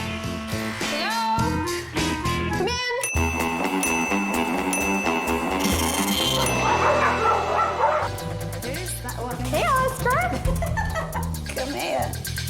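Several dogs bark, yip and whimper at a fundraising dog party, in many overlapping yaps over a busy mix of music and voices.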